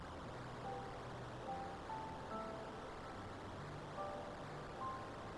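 Water runs steadily from a kitchen faucet in the 1987 Maniac Mansion adventure game, a soft continuous hiss with a few faint tonal blips over it, no talk.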